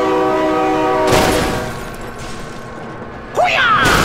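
A loud, sustained train horn sounds in the BeamNG Drive driving game, then cuts off into a heavy crash and rumble, followed by a rising electronic wail near the end.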